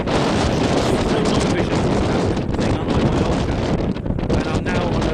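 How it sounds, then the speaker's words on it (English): Strong wind batters a mountainside above the Holme Valley, roaring and buffeting the microphone loudly and continuously for several seconds. "it's extremely windy"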